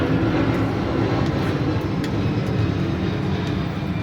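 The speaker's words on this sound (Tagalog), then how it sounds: "Lapit kasi kami sa airport kaya ang ingay ng airplane." Broadband airplane engine roar from a plane passing near an airport, a steady loud wash of noise that holds throughout with no talking.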